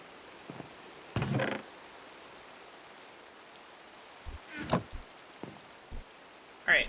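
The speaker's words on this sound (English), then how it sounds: "I hope it stops raining." Rain falling in the video game Minecraft, a steady soft hiss across the whole stretch, broken by a few brief thumps and clicks.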